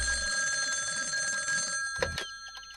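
A cartoon telephone rings in a steady electronic warble for about two seconds, then cuts off, followed by a couple of short clicks as if the receiver is picked up.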